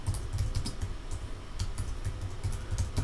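Continuous rapid typing on a computer keyboard, close up, with a brisk uneven rhythm of many keystrokes and no talking.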